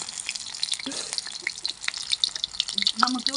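Plantain pieces fry in hot oil in a village kitchen, giving a close, continuous crackling sizzle with intermittent pops and splutters, while a voice is faintly heard.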